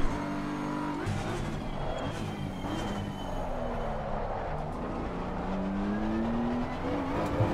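A GT race car lapping in Assetto Corsa Competizione, its engine note climbing and falling through gear changes under braking and acceleration, a continuous in-car drone with rising pitch sweeps toward the end.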